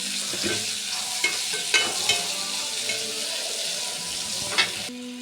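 Onions sautéing in a hot pan, a steady broadband sizzle with occasional sharp clinks and scrapes of a spoon stirring, close and continuous with no talking.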